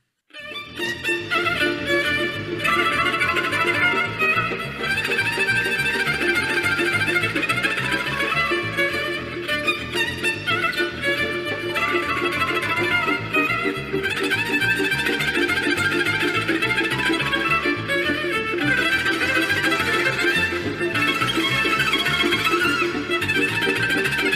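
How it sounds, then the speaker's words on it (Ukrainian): Sustained violin melody with fast runs over a steady accompaniment, loud and continuous throughout: Vittorio Monti's Csárdás, a lively Hungarian folk dance tune. "Послухай, як звучить Чардаш Віторіо Монті, коли грає скрипка."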